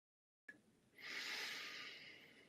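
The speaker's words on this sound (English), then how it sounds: "you take a deep breath" A single slow, deep breath taken while seated in meditation, a soft airy inhale swelling into a long, steady breathy rush, close and alone in an otherwise quiet space.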